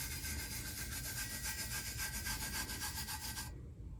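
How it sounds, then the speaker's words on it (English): Fingers burnishing tack-it glitter flat onto a cup, a steady, close dry rubbing and scratching that keeps an even rhythm for several seconds before stopping abruptly near the end. "Okay, 2-3 fingers, burnish, which means you're making the glitter lie down and flatten onto the cup."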